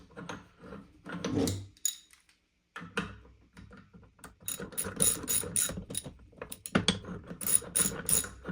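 A metal cup is screwed onto the saddle of a Torin 3-ton floor jack from Costco, giving bursts of close, crisp ratcheting clicks and scraping metallic turns, with a brief silent pause early on.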